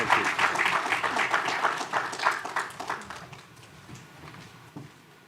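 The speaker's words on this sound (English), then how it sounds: "Please give a round of applause to Dr. Peter Sands." An audience at a national health financing dialogue breaks into a round of applause, loud and dense at first, then thinning and fading into scattered claps over several seconds.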